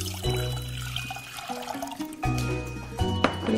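Water pours into a pot to start a broth base, a steady near splashing stream that stops and restarts in bursts, heard alone without speech.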